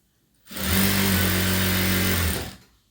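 Sewing machine running a single steady two-second burst along the last edge of a boat-neck blouse, close and even, starting and stopping cleanly.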